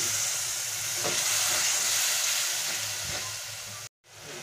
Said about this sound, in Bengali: দিয়ে ভালো করে মশলাটাকে আমি অল্প একটু জল দেব, দিয়ে ভালো করে 2 মিনিট রান্না করে নেব।